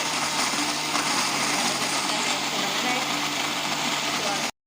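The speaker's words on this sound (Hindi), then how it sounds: "तो अब हम अपनी मशीन को बंद करके इसको चला लेंगे।" An electric grinder runs steadily at high speed blending ginger and garlic with cooking oil into a paste, a dense continuous whirring roar that cuts off abruptly at the end.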